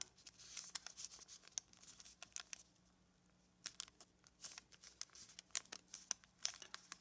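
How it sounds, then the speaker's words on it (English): Paper being folded into an origami 8-point star, with close, quiet crinkles, creases and soft rustling taps in irregular bursts and a short lull partway through. "So rotate and fold up. Fold the corners down."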